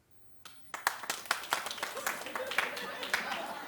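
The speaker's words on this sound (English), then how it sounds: "And your claps were delayed." A studio audience at a daytime talk show breaks into scattered, slightly staggered clapping that builds into a dense patter of claps, close and moderately loud, with a voice talking faintly over it.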